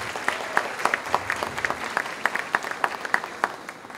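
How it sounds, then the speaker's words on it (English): Audience applause at an elementary school winter program, a steady patter of many hands clapping at moderate volume with sharper individual claps standing out, no talking. "Another round of applause for Lucia Esparza"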